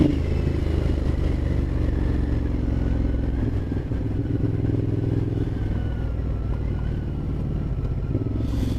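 A 2012 Ducati Diavel 1200 motorcycle engine idles with a steady, low rumbling drone, close and continuous with little change in revs.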